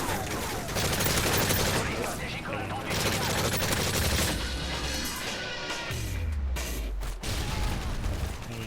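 Gunfire in the video game Modern Warfare 3, dense bursts of automatic shots with crashes and mechanical clatter, a near-continuous loud barrage with a low rumble late on, no clear talking.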